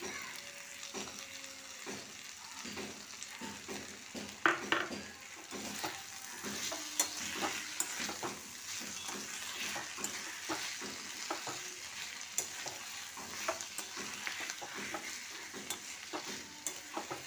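Potato and ridge gourd with poppy seed paste sizzle gently in a pan while a spatula stirs and scrapes in irregular knocks and clatters, close and fairly quiet throughout.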